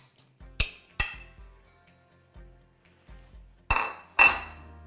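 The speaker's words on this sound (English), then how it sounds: "Give it a good stir." Metal utensil clinks against a bowl while stirring frittata ingredients of feta cheese and warm wilted spinach, a series of sharp separate taps with two louder clanks near the end.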